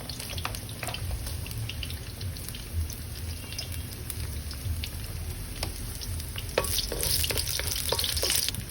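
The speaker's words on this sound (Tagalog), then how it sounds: "To start, we're gonna saute the garlic." Garlic sizzles steadily in a hot pan for a chicken cabbage stir fry, a continuous close frying hiss with scattered crackles and a few stirring scrapes, growing a little louder near the end.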